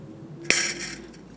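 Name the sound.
wire being trimmed with cutters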